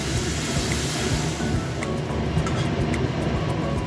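Water pours into a hot pan of fried onion and tomato for a mustard parse fish curry, making a dense, rushing hiss and bubbling that stays loud and steady throughout, with no talking.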